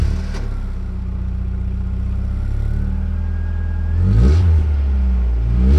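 A Lux Torpedo car engine is cranked and fires up, settling into a steady low rumble before a loud rev swells near the end, heard close with no talk.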